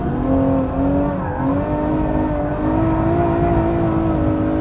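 Ferrari F12 V12 engine at full throttle in fourth gear, a loud, continuous high-pitched howl climbing steadily in pitch with a brief dip, heard close from inside the car with no talking.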